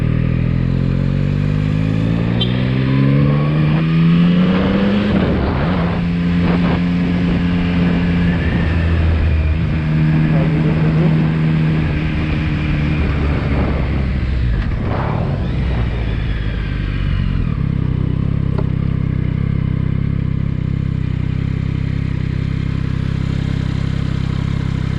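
A 2023 Yamaha XSR900 motorcycle engine runs close by, loud and steady, with rising and falling revs and some mechanical clatter, and no talk over it.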